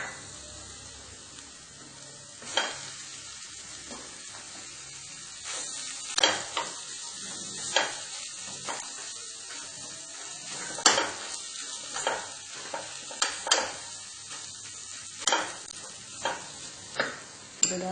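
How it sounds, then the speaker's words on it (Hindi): Peas and potato pieces stirred and fried in a pan, with a steady sizzle under repeated sharp scrapes and clinks of a utensil against the metal, close and without speech. "अभी थोड़ा मटर मिला देते हैं। ये 1 कटोरी था मेरा। इसी में हम थोड़ा आलू मिलाएंगे।"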